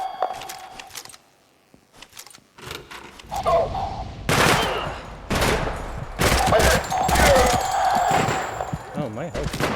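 A gun is fired from the hip in the shooter Project Silverfish, with a rapid burst of loud, sharp gunshots in repeated bursts after a quiet pause, over game noise and some talk.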